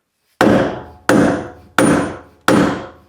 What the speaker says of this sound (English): we're going to go ahead and knock the axle back